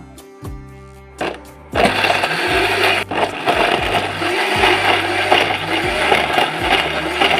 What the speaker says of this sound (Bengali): সেই জন্য ব্লেন্ডার জারে ব্লেন্ড করে নিব।